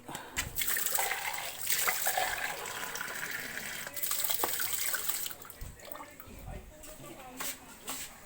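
Water runs from a tap into a cooking pot for water spinach, a steady splashing rush with brief pauses, close by, while a voice talks over it.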